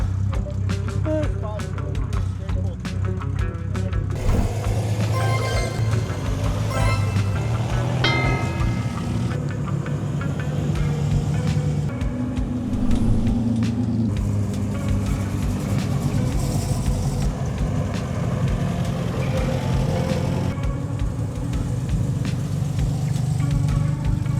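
A car carrying a motorcycle on its back rolls by on a street during a British car day, its engine rumbling steadily for a long stretch among other traffic and crowd sounds, with people talking nearby.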